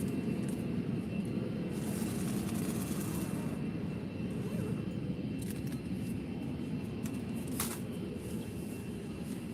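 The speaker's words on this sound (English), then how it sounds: "Another Jet2 landing now from Glasgow." A Jet2 airliner landing at Faro Airport makes a loud, steady jet roar that holds close and even for the whole stretch, with no break or fade.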